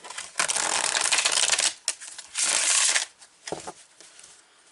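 Tarot cards shuffled in close, dense riffling bursts separated by brief pauses, with no voices heard.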